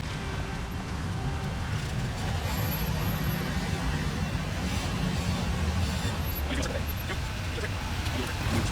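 A flatbed truck called the White Beauty rumbles steadily as it is driven, a continuous low engine drone with people talking over it.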